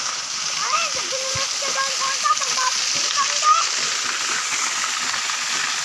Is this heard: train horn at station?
no